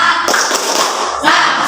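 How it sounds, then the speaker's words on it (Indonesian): A standing class of students does a rhythmic 'tepuk semangat' cheer, clapping in a quick patterned burst of close, sharp claps that carries on for under two seconds. "tepuk semangat dulu, tepuk semangat."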